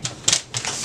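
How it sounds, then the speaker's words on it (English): Paper card base being trimmed for a handmade fall card, heard as a few short crisp cutting strokes in quick bursts, close and moderately loud with no talking. "we start out with our base and we start trimming"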